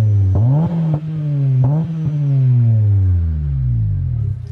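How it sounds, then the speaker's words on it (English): Deep, rumbling Acura TSX exhaust drone close by, rising and falling with a couple of quick revs, then settling lower as it fades out. "there's one thing I really love about this car, and it is the exhaust. The sound is really nice"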